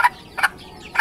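Chickens pecking at feed give three short, close clucks spaced evenly apart, quiet in between.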